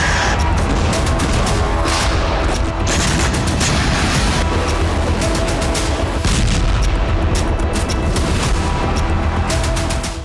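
Artillery shelling in Kharkiv during the Russia–Ukraine war: a loud, continuous barrage of booming blasts and rapid gunfire-like cracks, dense and relentless across the whole stretch, with no clear voices.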